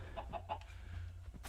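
A Minecraft chicken gives three quick, soft clucks in a row, faint and close, over a low background hum with no talking.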